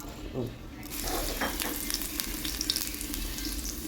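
Small onions frying in a pan of hot oil for a homestyle Kerala curry, a close, steady sizzle that swells after a brief quieter start, with a few spoon scrapes and crackles.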